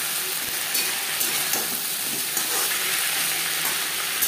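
Masoor lentil khichuri sizzles and fries in a pot while being stirred, a loud, continuous hiss with occasional scraping knocks, close and steady, with no one talking.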